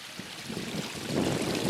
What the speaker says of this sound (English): Trickling water.